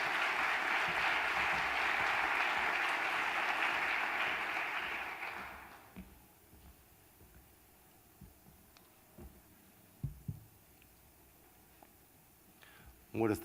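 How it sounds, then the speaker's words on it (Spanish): Steady, dense audience applause welcoming a speaker at an academic seminar presentation on literacy for deaf people, fills the first five seconds and then fades out, leaving a quiet room with a few scattered clicks and small noises. "Démosle por favor la bienvenida a Marco Antonio Rodríguez Reboredo con un fuerte aplauso."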